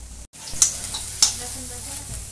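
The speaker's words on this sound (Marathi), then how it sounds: "तर सध्या आम्ही आता कांदा भाजून घेऊन राहिलो" Onions roast in a pan for Hyderabadi biryani with a soft, continuous sizzle, broken by two sharp utensil clinks and a brief dropout early on; faint background sounds, no clear talk.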